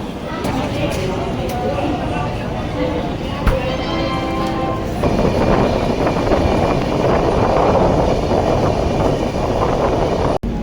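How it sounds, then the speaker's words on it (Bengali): A train departing Saharanpur rumbles along with a loud, continuous roar and rattle, close by, ending with a sharp clunk. "সাহারানপুর থেকে ছেড়ে দিচ্ছে ট্রেন"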